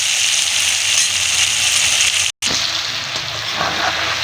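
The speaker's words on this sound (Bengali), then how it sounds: "এই যে টমেটোগুলো একটু ভাজা ভাজা হয়ে গেছে" Tomatoes frying in a pan while cooking a cauliflower, potato and rohu fish dish, a steady close sizzle and hiss throughout, broken by one brief silent gap, with faint stirring crackles near the end.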